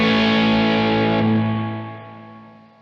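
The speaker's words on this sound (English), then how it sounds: "And reverb maxed out." Single sustained chord through a tube guitar amp with its built-in reverb turned all the way up, loud at first and then slowly washing away into a long, spacious reverb decay.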